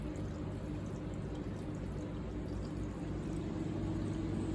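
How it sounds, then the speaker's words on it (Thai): Steady, continuous rush of water pouring and gurgling as an inverter washing machine's drain motor pumps out, with a low mechanical hum underneath; no voices. "มอเตอร์เดินน้ำทิ้ง กำลังเดินน้ำทิ้งอยู่นะครับ"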